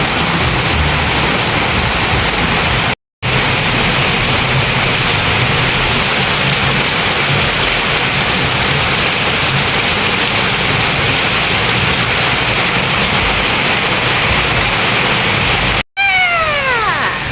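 Dense, steady hiss of heavy rain fills the whole stretch during Tropical Storm Kristine, with gusty wind noise beneath and a brief animal cry near the end.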